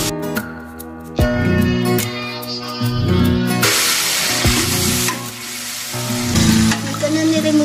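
Tuna flakes frying in oil in a pan sizzle and hiss steadily, with clinks of a utensil stirring against the pan and loud bursts of crackle that come and go.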